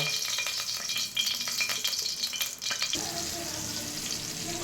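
Cumin, mustard seeds, green chilli pieces, onion pieces and garlic cloves fry in hot oil for ulavacharu, a continuous close sizzle with crackling pops and a rattling stir partway through.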